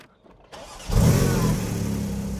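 A Porsche 718 Spyder RS flat-six is started with a turned key: a brief click and cranking, then the engine catches with a loud, close roar that settles into a steady, rumbling high idle.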